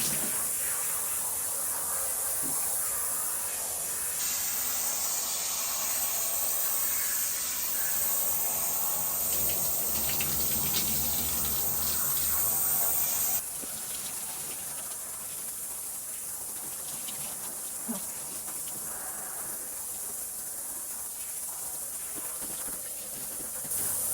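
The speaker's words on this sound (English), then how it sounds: "now I'm gonna rinse." Water sprays steadily while a 70 lb standard poodle is rinsed during a bath: a continuous close hiss of running water throughout, with a brief change in tone partway through.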